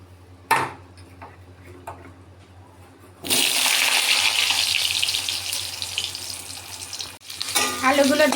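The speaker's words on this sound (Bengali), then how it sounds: "এখন যে আলুগুলো কেটে রেখেছি আলুগুলো দিয়ে দেব।" Cut potatoes tipped into hot oil with two dried red chillies and two bay leaves, making a loud, steady sizzle and hiss that bursts up suddenly and keeps going for several seconds after a few quiet clinks.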